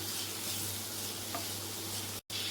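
Grated carrot being stirred into moong dal fry in a pan, a steady soft scraping and sizzle throughout with a brief break near the end and no talk.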